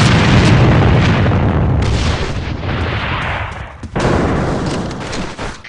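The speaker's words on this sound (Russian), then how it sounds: "Бросай гранату!" Grenade blasts in a first-person shooter video game rumble loud and close, a dense sustained roar of explosions and gunfire that dips briefly before another burst near the end.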